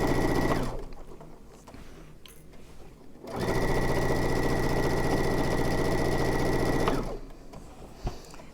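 A sewing machine stitches a hooded towel in two loud, steady runs of motor hum and needle chatter, with a quieter pause between them and a faint click near the end.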